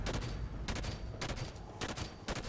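Sniper fire in Halo 5: Guardians, several sharp gunshots in quick succession, loud and close, with rapid bursts and no talking.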